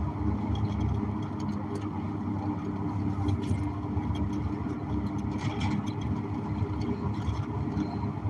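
A car cruising at steady speed on a road, giving a continuous low engine drone and tyre roar from inside the cabin, with no talk.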